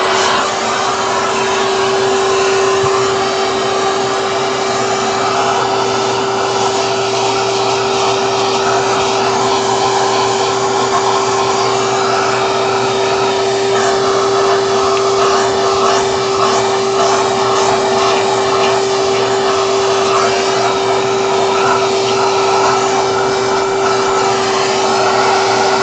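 A wet vac runs steadily and loud throughout, a continuous whining motor roar with a strong steady tone, used to vacuum dust off a dirty Gigabyte Windforce GTX 970 4GB graphics card.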